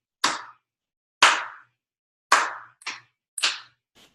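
Close hand claps beat out a short rhythm during a cello lesson: five sharp, dry claps spaced unevenly, long then quicker, followed by a faint final tap in a quiet room.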